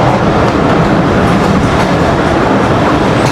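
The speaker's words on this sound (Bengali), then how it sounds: "আমরা প্রবেশ করছি নাভারন রেলওয়ে স্টেশনে" Betna Express train running from Khulna toward Benapole, heard from inside as a loud, dense continuous rumble with faint clickety-clack of wheels on rails, steady throughout with no voices.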